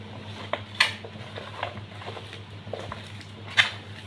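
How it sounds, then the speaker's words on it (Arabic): A spoon stirring dry spices, including onion powder, potato seasoning and thyme, together in a bowl, with soft scraping and a few light clinks against the dish over a low background hum. "هنضيف كل ده مع بعض وهنبدأ نقلب كل ده مع بعضه كده"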